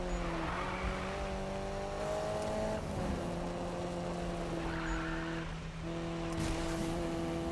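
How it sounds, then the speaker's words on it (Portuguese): A Nissan Silvia drifts in Need for Speed 2015, with a loud sustained engine drone that shifts pitch through gear changes and tire squeal, heard continuously with no talking. "Desafio de drift falhado."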